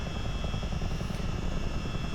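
A Chinook CH-47 tandem-rotor helicopter, a Miltech add-on in a flight simulator, flying with a loud, continuous engine roar and dense rotor thrum, steady throughout with no talk.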